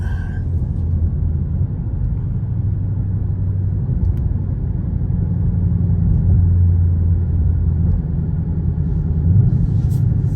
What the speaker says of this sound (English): Car's shifting down its own.